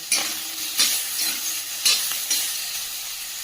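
Pork pieces fry in a wok with no added oil, letting out a soft hiss broken by a few sharp scraping stirs at uneven intervals, heard close with no talking.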